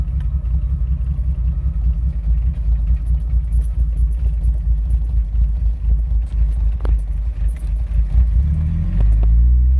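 Engine fitted with an Offenhauser dual port intake idling steadily at 1,000 RPM, a close, loud, low rumble throughout, rising slightly in the final seconds.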